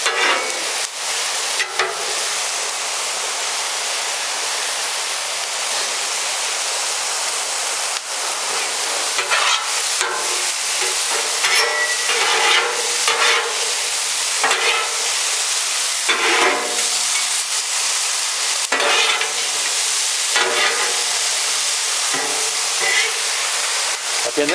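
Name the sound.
onions sizzling on Blackstone flattop griddle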